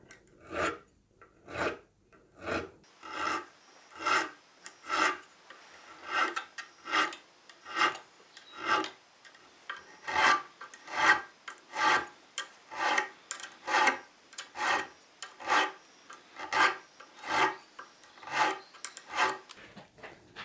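Fret ends on a Rickenbacker 620/12 twelve-string guitar are filed and rounded off with short, rasping strokes repeated in a steady rhythm, roughly one per second, close and clear with no talk.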